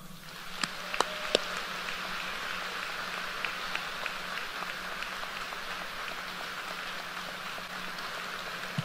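Audience applause at a 2023 Duquesne University law school commencement, a steady, crackling patter of many hands clapping throughout with a few sharper claps early on, moderately distant and even with no talk.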